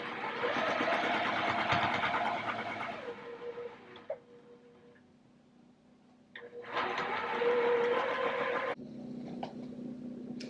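A sewing machine stitches quilt block seams in two long motor runs, a steady whirring drone that pauses briefly and then starts again, with a lower hum in between and no talking.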